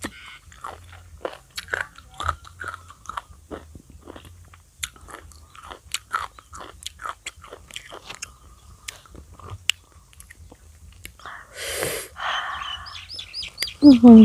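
Crunchy bites of green mango pickled in salt, eaten with Lao chili salt outdoors, come as repeated sharp crunches and chewing sounds close to the mic, with bird chirps in the background and brief handling noise near the end.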